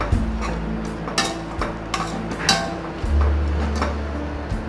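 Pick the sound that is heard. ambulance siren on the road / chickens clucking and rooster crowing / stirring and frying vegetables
stirring and frying vegetables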